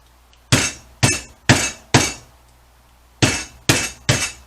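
A cooking ingredient for a Caribbean smoked turkey is smashed with a hand tool in seven loud, sharp whacks, four evenly spaced and then three more after a short pause.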